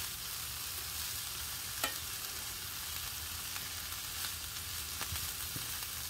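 Nettle and garlic fry in a pan with a steady, soft hiss and crackle, broken by a few faint scraping ticks from stirring, heard close and without voices.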